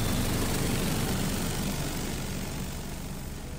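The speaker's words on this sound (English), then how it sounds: "Somehow, mid-flight, it detached from the central shaft of the plane's engine and was rattling around against the fan" Jet airliner engine droning loudly in flight while its detached nose cone rattles around against the fan, a dense steady roar heard from inside the cabin, slowly easing in level, with no talk.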